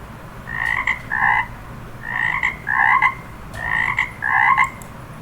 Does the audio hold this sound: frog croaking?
yes